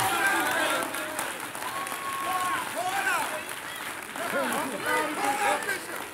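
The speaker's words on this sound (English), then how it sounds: "Give me a big round of applause." Congregation applause during a church sermon, a broad wash of clapping mixed with voices and shouts from the crowd, steady throughout with swells near the end.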